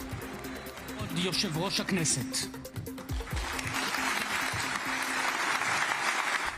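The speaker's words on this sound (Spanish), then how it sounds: "Tras una ovación de más de 3 minutos" Prolonged ovation for Donald Trump at the Israeli parliament in Jerusalem, a dense wash of clapping from a large chamber crowd, building and sustained, with a voice speaking over it early on.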